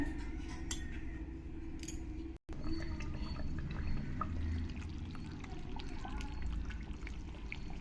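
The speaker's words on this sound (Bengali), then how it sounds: "জলটা তোমরা তোমাদের পছন্দ মতনই দেবে জলটা দিয়ে আমি কিছুক্ষণ জাল দিয়ে নেব চিকেনটাকে" Water is poured into a pot of chicken curry with potatoes, a steady close pouring and filling sound that runs throughout with a brief break partway, and no voices.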